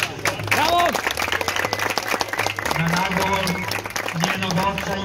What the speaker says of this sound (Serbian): svaki naredni još jedan veliki aplauz